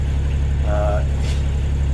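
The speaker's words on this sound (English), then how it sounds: "This is a little noisy, but it's a workhorse. It's a tractor motor." An old tractor-type engine aboard a 1982 Aloha 34 sailboat runs at a steady, loud idle, a constant low rumble that fills the space, with a faint brief whine partway through.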